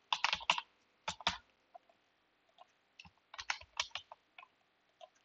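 Keystrokes on a computer keyboard come in quick bursts separated by short pauses, close and fairly quiet, with no voices present.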